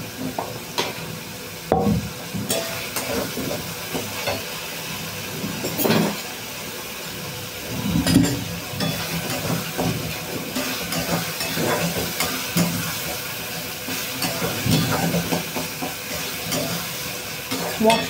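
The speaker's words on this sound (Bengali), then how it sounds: "মশলা কষিয়ে তেল বেরিয়ে এসছে" Masala spices fry and get stirred in oil until the oil separates, a continuous sizzling hiss broken by repeated scraping strokes and occasional louder clanks, close and steady throughout.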